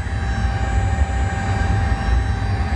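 Steady drone of a Boeing 737 engine running with its generator switched on, a constant low rumble with a fixed whine on top, heard close and without pause.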